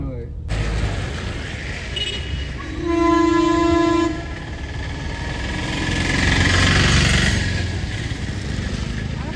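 Steady rumble of a train running nearby in Ooty, with a loud horn blast for about a second and the noise swelling as it passes.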